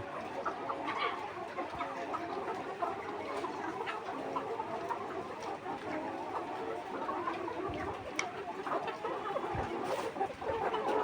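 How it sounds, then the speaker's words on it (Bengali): A flock of caged chickens clucking busily and continuously while eating feed, many birds close together, with no talking. "এই যে মুরগিগুলো খুব সুন্দর খাবার খাচ্ছে"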